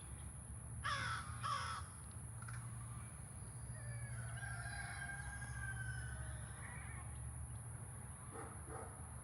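Bird calling outdoors, two short cawing cries early on and then fainter drawn-out calls, all set against a steady low hum of background noise.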